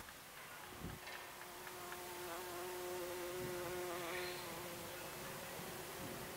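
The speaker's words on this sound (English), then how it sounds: "The first is to cover one variety with a mosquito net and to place a bumblebee hive" Bumblebees buzz steadily around squash plants in a garden, a continuous droning hum with one bee passing close, wavering in pitch and swelling slightly in loudness, with no talking.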